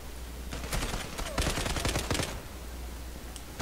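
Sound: gunfire in a video game

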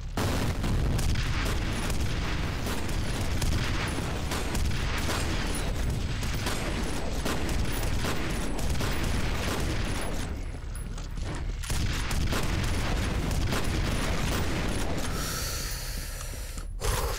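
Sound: grenade explosion and gunfire in video game F.E.A.R

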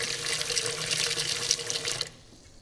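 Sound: water filling rice cooker bowl to the line

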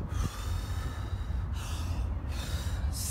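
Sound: two deep breaths during exercise

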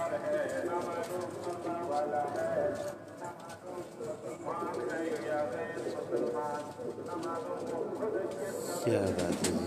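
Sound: pigeons released from a rooftop

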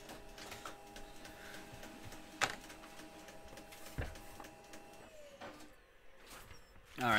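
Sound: printer printing a printout

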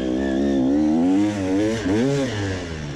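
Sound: enduro motorcycle racing through the final corner

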